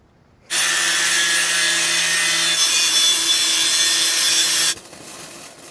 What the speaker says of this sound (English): So I'll first grind the plate, so I have some fresh metal, clean metal